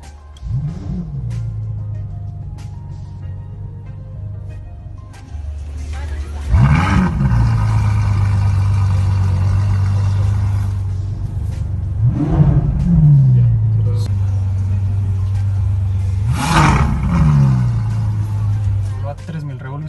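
A Ferrari engine cold-starts with a roar and revs hard three times, each loud surge dropping back to a deep, steady idle rumble.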